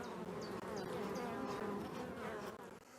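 Honeybees buzz around hives moved to an acacia site for honey, a close, constant hum with individual bees droning past, quiet overall and without talk.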